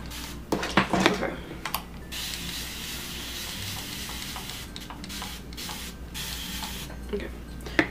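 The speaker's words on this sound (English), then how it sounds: "I sprayed my ear" Hairspray from an aerosol can hissing onto hair during at-home back-to-school styling, several short close bursts of spray over a steady background hiss.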